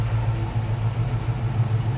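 1964 Chevrolet C10 Stepside street rod with its engine running, a steady low rumbling idle heard close, no voices.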